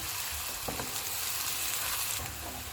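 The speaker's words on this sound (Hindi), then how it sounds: "ऑयल गर्म हो गया, इसमें प्याज डाल देंगे। प्याज को हम गोल्डन फ्राई करेंगे।" Chopped onions frying in hot oil, cooked to golden for handi kabab, a soft continuous sizzle heard close but fairly quiet, with a few faint stirring touches and no talk.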